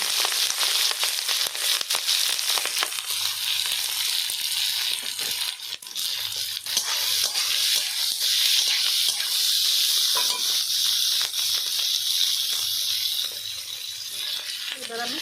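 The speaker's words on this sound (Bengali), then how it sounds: "কড়াইতে ঘি দিয়েছি এবার আমি সবজি" Vegetables fry in ghee in a kadai wok for fried rice, giving a steady, loud sizzling hiss with scattered crackles that lasts the whole time.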